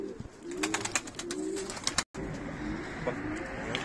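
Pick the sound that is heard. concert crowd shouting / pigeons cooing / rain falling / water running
pigeons cooing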